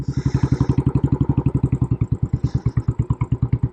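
A Royal Enfield Military Classic 500 single-cylinder motorcycle thumps along in a loud, close, evenly pulsing rhythm while being ridden, with a brief rough, jerky patch on the clutch.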